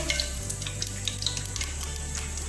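Half a cup of water going into hot oil in a pan while cooking mutanjan rice, a soft continuous sizzle and bubbling hiss with small crackles, close and steady.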